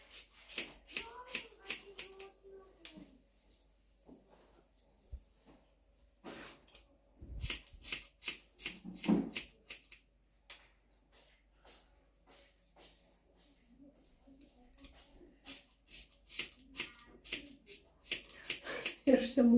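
Scissors snipping hair during a home haircut, sharp quick snips in irregular bursts up close, with people talking in between.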